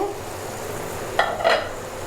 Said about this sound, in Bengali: আমার মশলাটা বলক উঠে গেছে।